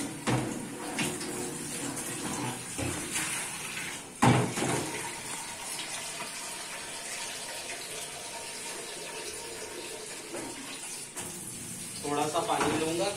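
Water is poured into a pressure cooker while cooking taro and meat curry, a continuous splashing trickle with kitchen noise and a brief clunk partway through.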